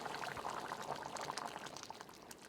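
Rice water bubbles in a pot on the stove, a soft, steady boiling burble close by with no talking.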